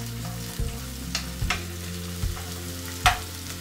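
Garlic, shallot, chili and ginger sizzle in a pan, a steady fry broken by several sharp stirring scrapes and clatters, close with no voices.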